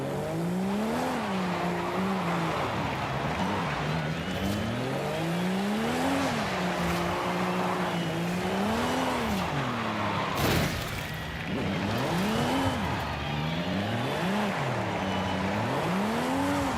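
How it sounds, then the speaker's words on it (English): Continuous squeal of tyres from a car drifting in Forza Horizon 5, the pitch weaving up and down as the car swings between left and right angles under throttle, loud and sustained with engine roar beneath and no talking. "you can even drift in the same position in the right and the left"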